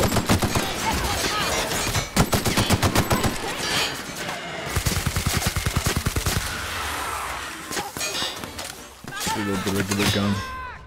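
Rapid bursts of gunfire from a weapon in the video game The Outer Worlds rattle loudly and repeatedly, mixed with game sounds and music and a voice speaking over it.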